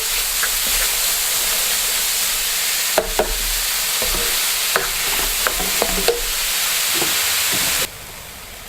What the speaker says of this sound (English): After, add the mushroom and stir fry well.